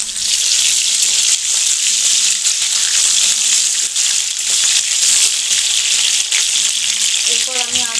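Curry leaves tempering in hot oil for a ghugni and dal puri recipe, giving a loud, steady, bright sizzle and crackle throughout, with a few stirring clinks near the end.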